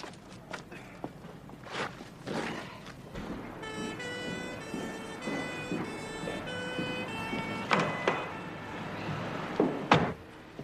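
An ambulance siren wails in steady, tonal cycles through the middle of the scene, with footsteps, knocks and other movement around it and a sharp bang near the end.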